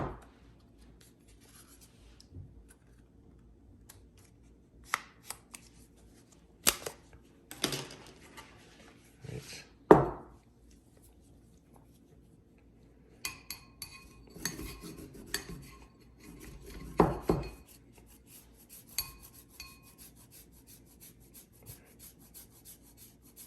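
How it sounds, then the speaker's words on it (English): A block of Gruyere cheese rubbed across a metal grater in scattered rasping strokes, each short and close, between quiet pauses and light clinks, with no talking. "So as we're grating the cheese"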